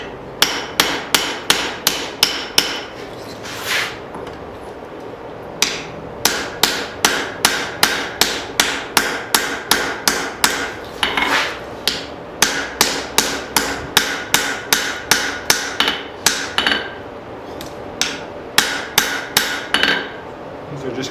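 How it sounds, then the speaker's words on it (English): A hammer strikes a hot hatchet head in a forge, landing dozens of sharp, evenly paced ringing blows in runs broken by short pauses, close and loud with no talk. "These are just kind of some punishing blows. Just taking out any lumps or wonkiness."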